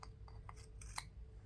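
Kelmscott Designs scissors snipping, a few faint quick crisp cuts in close succession over a low steady hum.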